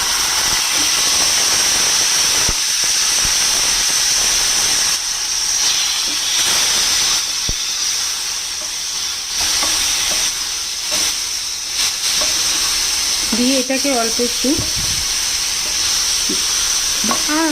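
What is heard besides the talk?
boiled hog plums frying in oil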